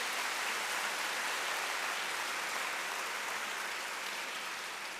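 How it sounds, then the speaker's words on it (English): Applause from a large conference audience at a library congress opening session, a steady, even wash of many hands clapping at moderate distance, sustained throughout without voices. "So let's just give this applause."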